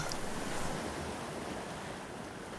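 Ocean surf breaks in a continuous, close wash of churning water with a faint windy edge, heard alone without voices.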